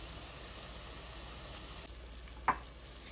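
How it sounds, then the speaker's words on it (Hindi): Chicken keema with masala frying in a pan, a soft steady sizzle throughout with one brief sharp clink near the end, quiet and close, no voices. "ये इसको आप भूनते रहें ऐसे, तो इसका मसाला थोड़ा सा भून जाए"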